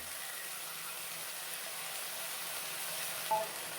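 Boal fish curry with green chillies, green banana, potato and yardlong beans simmers and sautés in a pan, a soft, even, continuous sizzle at low level with no voices.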